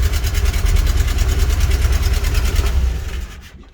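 A Watermota Sea Wolf inboard engine on a Birchwood 22 river cruiser idles with a steady rapid chugging pulse, loud and close, then cutting out near the end.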